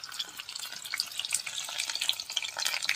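Onions sizzle and crackle in a hot pan for an Assamese meat and greens dish, a steady bright frying hiss with scattered pops and spatters, fairly near, no voices.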